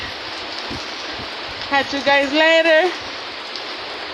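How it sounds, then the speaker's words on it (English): Heavy rain pours steadily through a storm, a dense hiss of drops pattering on surfaces throughout, while a person speaks briefly over the downpour near the middle. "It's not snowing, it's raining really bad."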